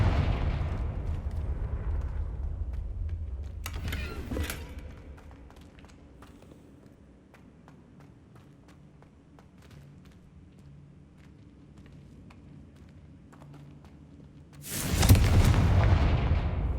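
Spell explosions from Confringo and Bombarda in the video game Hogwarts Legacy: a heavy booming blast at the start, a sharp crack near four seconds, a quieter rumbling stretch, then a loud final burst near the end, with no talking.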